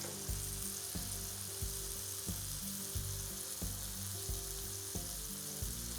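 Venison backstrap sears in a hot stainless steel pan, a continuous close sizzle with rhythmic knocks and scrapes as the meat is turned and moved, no voices.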